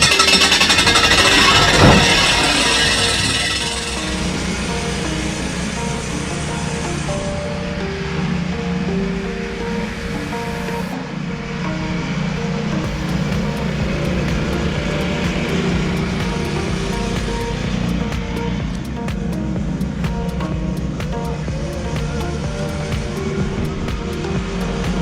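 Lawn mower running continuously while mowing a lawn treated with plant growth regulator, a loud steady engine drone with a brief sharp clatter near the start and no talking.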